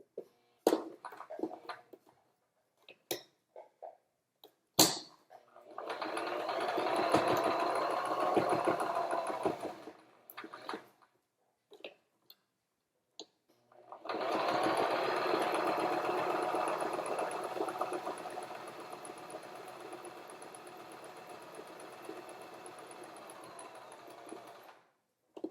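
A sewing machine stitches a second round on top of an earlier line of stitching. Two long, steady whirring runs are separated by quiet gaps with scattered clicks and handling noises.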